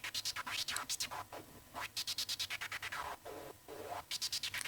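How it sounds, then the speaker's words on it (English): A noisy sound is chopped into rapid rhythmic pulses by Traktor's gate effect, stuttering on and off in bursts with short pauses between the runs. "I like to use the gator of Traktor, because that also has a little noise"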